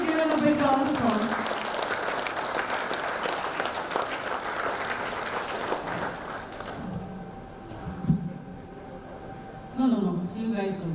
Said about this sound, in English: I'm requesting all the gentlemen here to give it a big round of applause.